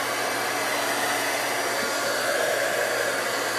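Hair dryer drying watercolor paint, a steady, close, loud rushing hiss of air that runs unbroken with no voices.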